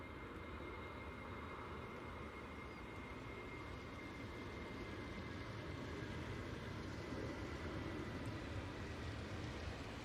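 An airliner from Atlanta touching down on runway 05 right at Manchester Airport, a steady broad roar of jet engines and reverse thrust heard from a distance, rising slightly toward the end with no talk.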